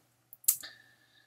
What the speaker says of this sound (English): To create the blank wrapper, click on it.